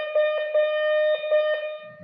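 Slow Morse code letter C at 5 words per minute: a steady electronic note with pulses in a long-short-long-short pattern, clear and close, no talking.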